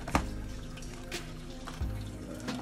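Water is poured out from a small container of saltwater aquarium water, trickling and splashing softly with a few brief gurgles and drips, close and quiet.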